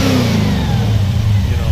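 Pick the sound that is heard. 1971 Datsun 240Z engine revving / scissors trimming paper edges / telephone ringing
1971 Datsun 240Z engine revving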